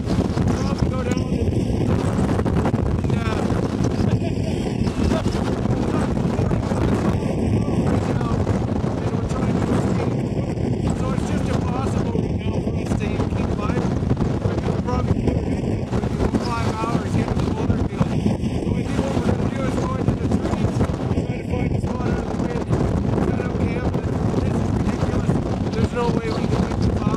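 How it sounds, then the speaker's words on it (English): Strong, gusty wind in gusts of 30 to 50 miles an hour roars constantly over a boat, with heavy buffeting on the microphone. Faint regular beeps repeat every few seconds underneath. "The wind's like it's like carrying us, pushing us all over."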